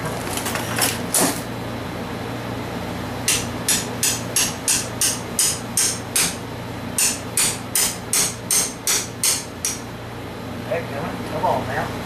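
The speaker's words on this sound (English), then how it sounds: "I need the flat hammer." A flat hammer strikes metal in a close, sharp, evenly paced series of blows, a short burst first, then two long runs, over a steady background hum.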